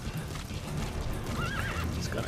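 A horse whinnies in Metal Gear Solid V: The Phantom Pain with a rising and falling call over the clatter of hooves and steady background noise.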